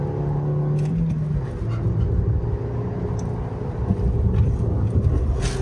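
A Maruti Ertiga car accelerates from a standstill toward 100 km/h, a steady loud engine drone and road rumble from inside the cabin with wind buffeting, rising slightly in pitch as the gears change.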